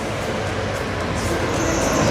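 A small train ride runs inside a converted abandoned mall in Orlando, giving a steady, fairly loud rolling rumble with faint wheel squeal rising near the end.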